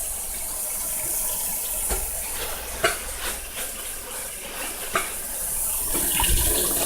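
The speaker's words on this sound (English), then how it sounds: "I'm already turning on my water to hot, extremely super hot." A kitchen faucet runs hot water in a steady gushing stream, with a few knocks and clatters as the flow continues and strengthens toward the end, no talking.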